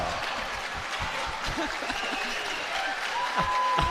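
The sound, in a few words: crowd applauding at pickleball match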